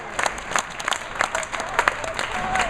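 A crowd claps and cheers at a bowling tournament's scratch and handicap finals, loud, dense applause with scattered whoops and a commentator's voice mixed in.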